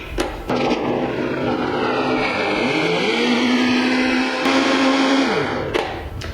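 A blender mixing a protein shake runs loud and close, its motor whine shifting pitch as the contents churn, then cutting off briefly near the end.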